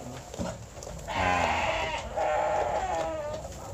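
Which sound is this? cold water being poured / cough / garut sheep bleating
garut sheep bleating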